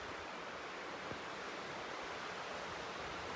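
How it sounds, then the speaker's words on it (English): Waterfall in the Lake District heard from below: a steady, dense roar of falling water that fills the whole clip evenly and close, with no voices. "We're coming to the underside of the waterfall"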